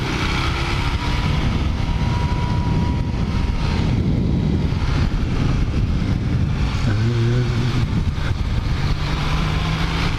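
A 1980 Kawasaki LTD440 motorcycle runs steadily on the road, its engine drone mixed with heavy wind rush across the whole stretch, with a brief rising engine tone near the end and no speech.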